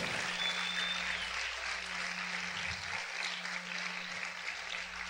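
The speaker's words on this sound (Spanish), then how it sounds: "Si ese aplauso es para el Señor, déselo fuerte." Steady, dense applause from a large church congregation fills the whole stretch, holding loud and even throughout with no voices over it.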